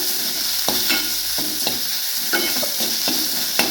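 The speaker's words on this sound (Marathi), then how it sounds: "कांद्याला छान असे लाल परतून घ्यायचं आहे" Onions sizzle and fry in a pan while being stirred until reddish for egg masala, with a steady close sizzle broken by scraping stirs.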